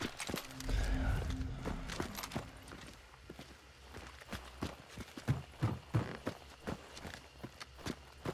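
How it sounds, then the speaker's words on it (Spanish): Horse in the video game Hunt: Showdown: irregular clip-clop hoof steps, faint and somewhat distant, following a louder low rumble at the start. "Acabo de escuchar un caballo por ahí."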